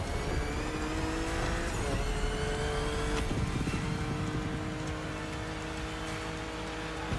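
Racing cars in the video game The Crew Motorfest, including a Porsche, with continuous engine roar and revving, gear shifts and passing tones, loud and unbroken.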